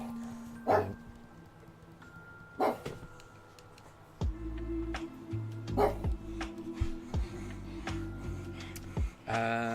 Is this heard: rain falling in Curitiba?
no